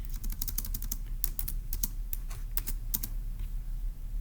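Someone types on a computer keyboard close by, quick irregular keystrokes tapping in bursts over a low steady hum, with no talk.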